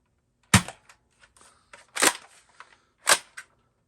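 An X-Shot Chaos toy blaster launches balls in three sharp, snappy pops spaced about a second apart, with smaller clicks of priming and handling in between; no talking.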